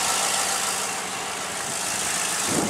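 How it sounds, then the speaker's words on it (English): A 2004 Chevy 5.3 LS engine with 135K miles, damaged in a collision and running with its belt removed, idling steadily in a smooth, continuous hum with constant loudness and no talk over it. "You can hear that's idling."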